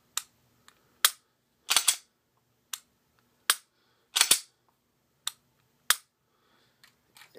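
A stippled Smith & Wesson M&P 40 pistol dry-fired: sharp, isolated trigger snaps and reset clicks, about ten crisp hits spaced irregularly against near silence.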